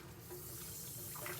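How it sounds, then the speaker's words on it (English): An item is rinsed under a running tap at a sink, a soft steady water stream heard faintly and continuously throughout. "And I'm just going to rinse it out"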